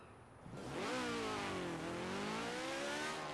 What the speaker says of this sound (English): It's a better sounding engine than the original, but it's still a motorcycle engine.